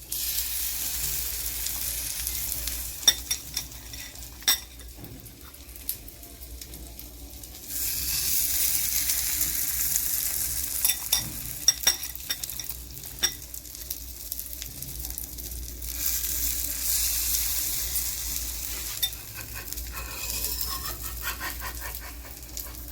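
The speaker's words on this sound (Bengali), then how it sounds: "এভাবে দুপিঠ সমান খুব ভালো করে সেঁকে নিতে হবে। ওই ভেজে নিতে হবে।" A bread omelette fries in a pan with a steady sizzle that swells and fades in waves, broken by occasional clicks and scrapes, with no voices.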